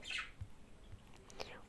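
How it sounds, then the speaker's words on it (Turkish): A few quick chirps and tweets from pet birds ring out close by, scattered irregularly over a quiet background. "bizim kuşlar cikliyor"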